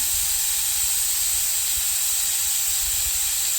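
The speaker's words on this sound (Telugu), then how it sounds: "కుక్కర్లో ఏది పెట్టినా ఇంకా ఈ ఎయిర్ అనేది కంప్లీట్గా వెళ్ళాలి అప్పుడే మనం మూత అనేది తీసుకోవాలి" A pressure cooker releases steam before its lid is opened after cooking a tomato and dal curry, giving a loud, steady, unbroken hiss throughout.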